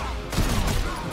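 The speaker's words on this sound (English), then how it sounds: "that was a lot of gunshots in that juggle" A rapid burst of gunshots rings out during a juggle combo in the fighting game Injustice 2 at a tournament, several quick cracks packed into about a second, loud and dense.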